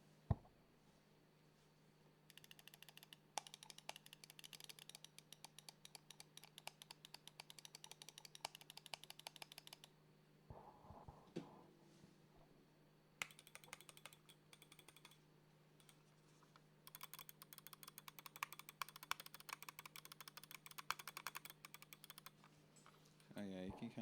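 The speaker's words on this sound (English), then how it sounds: "I guess I do a sound test of both the main clicks on the Viber VC Pro and the Super Light 2." The main buttons of a Razer Viper V3 Pro and a Logitech Superlight 2 gaming mouse are clicked in quick repeated bursts, with sharp, faint, close taps and short pauses between bursts over a low steady hum.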